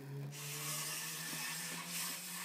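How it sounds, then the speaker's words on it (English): Hand sanding over filled holes on a homemade wooden Halloween fence, a steady broadband scraping rub that runs continuously for a couple of seconds at close range, with a low hum beneath and no talk. "now sand it one more time over the holes"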